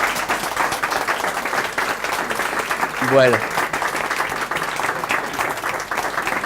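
Audience applause at an exhibition talk, a small group clapping steadily under a presenter's speech.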